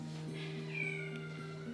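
A cat shut in another room gives a muffled, distant meow, a single drawn-out cry faintly heard over a steady background hum.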